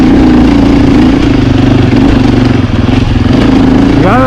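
A 2024 Husqvarna FE450 motorcycle engine running loud and close, a steady throbbing drone with a rising rev at the end.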